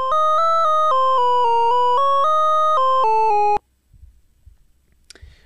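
A PICO-8 synth waveform blending square and sine waves plays a short run of sustained, organ-like notes stepping up and down in pitch for about three and a half seconds, then stops abruptly, leaving faint low background noise.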